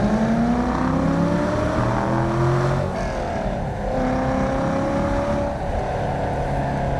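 A 2002 Chevrolet Corvette Z06 with a 5.7-litre LS6 V8 and six-speed manual drives hard, its loud, close engine rising steadily in pitch through the gears with brief dips at the shifts, and no voices.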